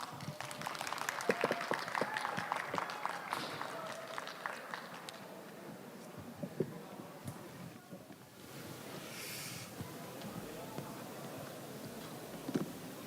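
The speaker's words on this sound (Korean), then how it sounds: "다시 한번 큰 박수 부탁드립니다" Audience applause at a youth work-experience conference in Gwangju, a dense steady clatter of clapping for several seconds that thins and fades toward a quieter room tone.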